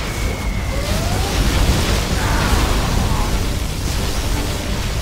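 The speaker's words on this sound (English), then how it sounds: "Particle cannon activated." A loud, sustained roaring particle cannon blast in Command & Conquer: Generals Zero Hour, with heavy low rumble, holding steady for several seconds without a break.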